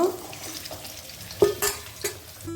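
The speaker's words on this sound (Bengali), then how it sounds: "আর আলুটা ভাজার সময় আমি একটু দিয়ে দিচ্ছি লবণ আর খুবই সামান্য একটু হলুদ" Potato pieces fry in oil seasoned with salt and turmeric, making a low background sizzle broken by several sharp scrapes and clatters of a spatula against the pan.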